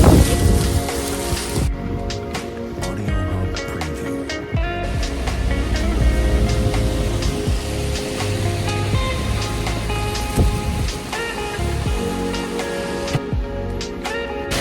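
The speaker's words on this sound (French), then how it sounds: "Il pleut à verse." Heavy rain pours steadily in Bastia, Corsica in a dense, continuous wash, with wind-like roar and some low rumbling throughout.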